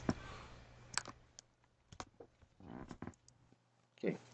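Light clicking of a computer keyboard as letters are typed into a spreadsheet filter field, a few sparse, faint taps scattered between pauses against quiet room tone, with a voice speaking briefly.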